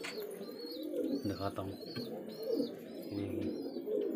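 A pigeon feeding its chick gives soft, low cooing pulses in two brief bursts, set among frequent chirps and tweets from other birds nearby, with someone speaking briefly.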